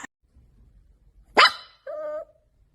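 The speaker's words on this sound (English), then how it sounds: "Cute puppy barking in the field." A puppy in a field gives two short barks, a sharp yelp followed by a brief higher bark, close and clear against near silence.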